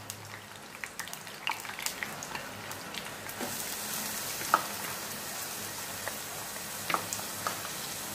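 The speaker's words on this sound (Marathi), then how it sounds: "कांदा पूर्ण गुलाबी होईपर्यंत आपल्याला परतून घ्यायचा आहे, पोळून घ्यायचा आहे" Onion with two chillies sautéing in a pan for dry liver masala, continuous close sizzling and crackle with occasional stirring clicks and scrapes, no voices.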